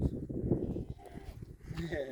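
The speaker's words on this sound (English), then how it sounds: "Wow, look at all those goats." A herd of goats bleats and mills about close by, with overlapping calls and shuffling, while people talk over the animals.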